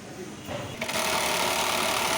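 An industrial sewing machine runs steadily, stitching cut fabric pieces while an elastic band is joined onto a garment top; the motor hum stays continuous and fairly loud throughout, swelling slightly after the start.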